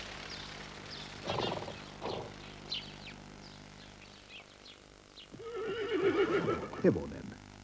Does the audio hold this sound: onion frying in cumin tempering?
no